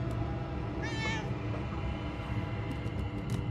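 A cat in the ghost-detective game Murdered: Soul Suspect gives one short, high meow over a steady hum of background noise, with no voices.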